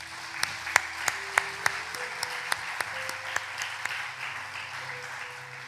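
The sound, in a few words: church congregation applauding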